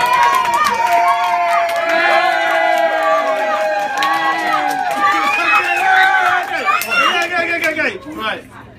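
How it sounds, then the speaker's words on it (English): A lively crowd at an oval pub cheers, shouts and stamps as people jump and clap, loud and close, with voices calling out over the din before it thins toward the end. "I want you to jump up and down and clap for the brother"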